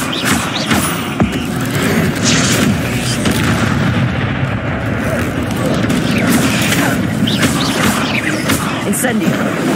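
Hogwarts Legacy combat with the Incendio fire spell being cast among spiders near a bridge, loud continuous booming, crackling blasts and impacts layered densely under a voice calling out.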